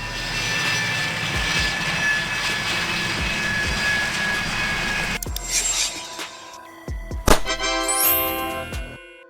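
A military attack jet roars loudly with a broad engine rumble, then the sound cuts to scattered thumps and rising whines as it passes.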